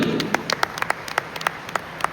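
Sparse, separate claps ring out at a business speech gathering, a thin scattering of individual hand claps spaced irregularly over a quiet room rather than a full ovation.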